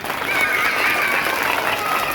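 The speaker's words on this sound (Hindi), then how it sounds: "चलो जोर से ताली बजाओ।" A group of children claps loudly together during a drama workshop, a dense, continuous burst of applause filling the short moment.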